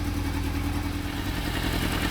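Yamaha FZR motorcycle engine idling steadily while warming up after coolant system work, a close, even, low mechanical throb with a light clatter and no revving.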